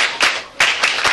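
A classroom of students clapping in applause, several short bursts of hand claps close by, with no talking over them.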